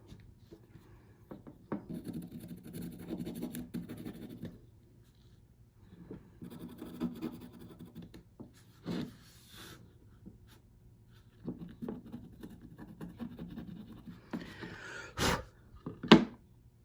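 A pencil scratches and digs into dried paint layers on an artwork in short, irregular bursts of dry rasping, close and fairly quiet, with pauses between strokes and a couple of sharper knocks near the end.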